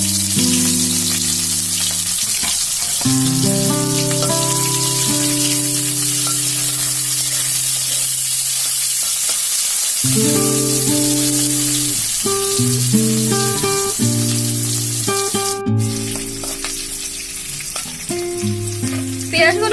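Onions frying in oil for a Bengali-style mixed vegetable curry, a steady sizzle running the whole time beneath loud melodic background music.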